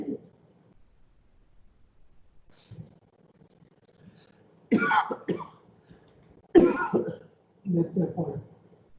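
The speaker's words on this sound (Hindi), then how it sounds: "अरे खांसी आती है आपको" A few short, harsh coughs break a quiet room during a spiritual discourse, spaced a second or two apart, followed by a brief low murmur.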